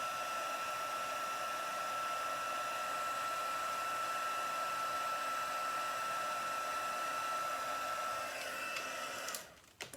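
A heat tool melts embossing powder on a greeting card, giving a steady, loud blowing whir with a faint whine that holds throughout and cuts off abruptly just before the end.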